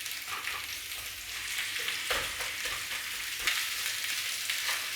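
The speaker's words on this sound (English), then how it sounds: "all we're doing is a little bit of a stir fry and a bit of charring." Chicken cubes for chicken dopiaza stir-fry and char in a hot pan with a dense, continuous hiss and crackle and occasional scraping strokes, close and steady throughout.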